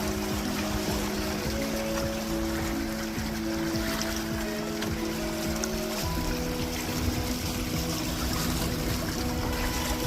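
A Macgregor 26M sailboat moving briskly across the Chesapeake Bay, with steady broadband water rush and hull swash, plus a low continuous drone, loud and unbroken throughout with no voices.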